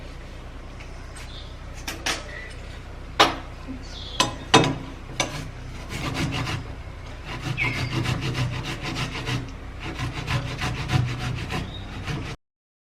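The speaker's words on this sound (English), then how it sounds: "so after grating the tomato, what you're going to do next is to strain the juice out" A tomato is rubbed against a kitchen grater in repeated rasping strokes, irregular at first with a few sharp knocks, then settling into a steadier scraping rhythm, close and fairly quiet.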